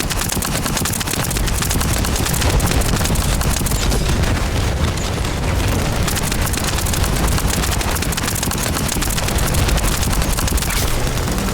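Gunfire and explosions from a boss battle in The First Descendant video game: a dense, continuous barrage of rapid shots and heavy booms, loud and unbroken, with no talking.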